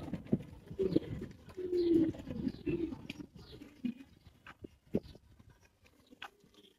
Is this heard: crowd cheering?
no